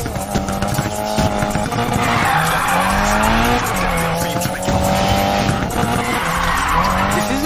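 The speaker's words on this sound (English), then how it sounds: "Just press the drift button." Race car in the Need for Speed video game drifting: a loud, continuous engine roar with rising and falling pitch and sustained tire squeal throughout, with no talking.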